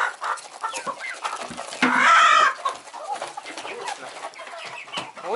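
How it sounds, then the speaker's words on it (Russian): Roosters in a farm coop clucking and crowing, with one louder crow rising in the middle among scattered nearby clucks and rustling. "Тут у нас петушки сидят."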